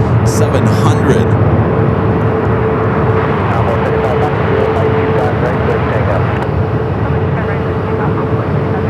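Southwest Boeing 737-700 jet landing on runway 25 left at Phoenix Sky Harbor after a flight from Oakland, a steady broadband engine roar with a faint tonal hum, holding level throughout with brief faint chatter early on.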